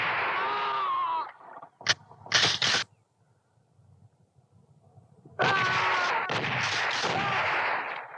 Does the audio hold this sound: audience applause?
no